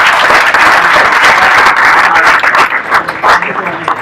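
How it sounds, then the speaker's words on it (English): Loud, close applause from a crowd after a talk on the evidence for the resurrection. A thick roar of clapping breaks into sparser individual claps as it dies away. "Can we give another round of applause?"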